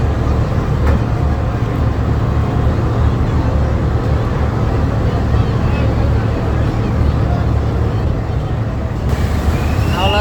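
A loud, steady engine drone dominates throughout, the constant low rumble of a passenger launch engine running close by at Dhaka's Sadarghat ferry terminal, with faint voices beneath.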